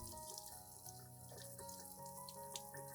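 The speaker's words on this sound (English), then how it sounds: "When rinsing, you should use a gentle stream of water and rinse very carefully around the base and between the root gaps" A gentle stream of tap water runs steadily over orchid roots, a soft continuous trickle and splash heard quietly and close, with faint background music and no talk.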